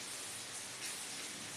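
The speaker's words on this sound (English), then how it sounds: "It's raining now." Rain falling outside in a city during the rainy season, a steady, even hiss of drops with no other sounds.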